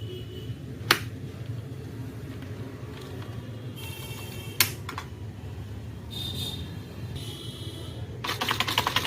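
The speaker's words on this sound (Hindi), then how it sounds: "पासवर्ड डाल दिया है, एंटर कर रहे हैं।" Keys clack on an external keyboard plugged into a laptop as a password is entered: a few sharp isolated presses, then a quicker run of tapping near the end over steady background noise.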